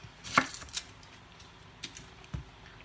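A knife chops onions on a board, a few sharp, separated cuts with quiet gaps between them, close up and with no talking.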